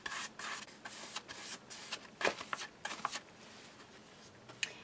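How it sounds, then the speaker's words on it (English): A paintbrush sweeps paint across a paper journal page laid over paper towels, quiet dry rasping strokes in an uneven rhythm, close by and soft. "I'm just going to brush it on the page"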